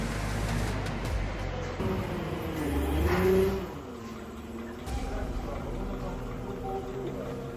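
A Kubota A195 compact tractor's engine idles steadily nearby, with a brief rise in engine pitch partway through before it settles back to a constant running drone.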